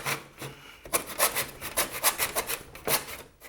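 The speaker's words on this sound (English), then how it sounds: "I'm going to cut a 45-degree angle here" A hand saw cuts a 45-degree miter through wooden molding held in a miter box, its rasping strokes coming in a steady back-and-forth rhythm up close after a brief quiet start.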